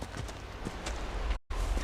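Horse hooves clip-clopping at a steady walking rhythm in the video game Dragon Age Inquisition, mixed with game ambience, with a brief dropout near the end.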